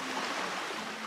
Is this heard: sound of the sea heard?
yes